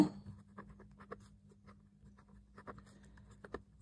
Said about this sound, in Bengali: তো দেখো এখানে আমরা লিখছি